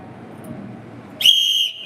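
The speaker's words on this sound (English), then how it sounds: "You forgot I had the whistle." A single sharp, shrill whistle blast, loud and close, cutting in after a quiet moment and lasting about half a second.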